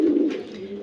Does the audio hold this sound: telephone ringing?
no